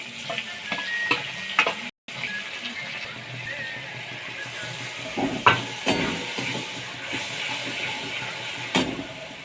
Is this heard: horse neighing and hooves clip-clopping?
no